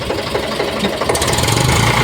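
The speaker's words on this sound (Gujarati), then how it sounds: "કાલે આ ઓલો ટ્રેક્ટર હાંકતો હતો બીજો કેવો આવી ગયો છે" Close, steady chugging of a running tractor engine with a low vibrating rumble, rising slightly in loudness toward the end, with no voices.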